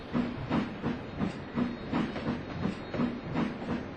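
A steam locomotive chuffs in a steady rhythm with regular exhaust beats and hiss, close by, as it pulls slowly along.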